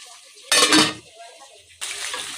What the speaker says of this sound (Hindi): तेज आंच पे भूनेंगे लेग पीस को